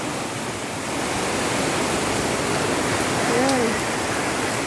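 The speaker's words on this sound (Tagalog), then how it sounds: "Grabe ang baha ngayon. Ang taas ng tubig." Flood water after a full day of rain rushes past in a loud, steady broadband roar, with a faint brief voice-like sound briefly surfacing partway through.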